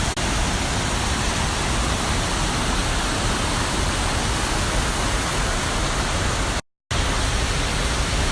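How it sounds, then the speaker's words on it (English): A waterfall thunders over a rocky bank, a loud, close, steady roar of rushing water that fills everything, broken only by a split-second cut near the end. "We're going down to see if we can get underneath the waterfall"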